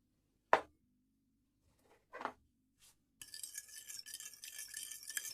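Stirring oil into egg-free cookie dough in a bowl: a few isolated clinks and scrapes of a utensil against the bowl, then a soft, continuous mixing rustle, quiet and close.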